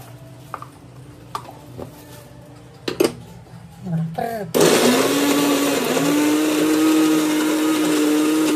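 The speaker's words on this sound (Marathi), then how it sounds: "मग ते एकदम बारीक करून घ्यायचं मिक्सरला" A mixer grinder blends garlic and coriander: after a few clinks and short bumps, the motor bursts on at about four and a half seconds and keeps up a loud, steady whirring roar to the end.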